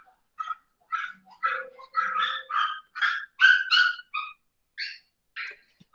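Several excited dogs barking in a home, a quick irregular series of sharp yelps and barks, some overlapping, close and fairly loud with short gaps between them.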